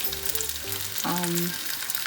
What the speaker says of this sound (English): I have added about 2 tablespoons of oil in a frying pan. Let's add the fish.